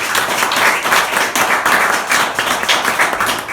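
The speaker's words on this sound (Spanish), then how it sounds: "Ese aplauso, apláudalo si lo vas a aplaudir." A church congregation applauding during a sermon, a loud, continuous wash of many hands clapping with slightly uneven surges, close and filling the room.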